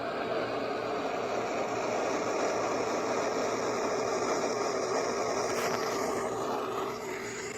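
A SpaceX rocket just after liftoff gives a steady, loud, broadband roar that holds without a break for several seconds, then eases slightly near the end, with no talk.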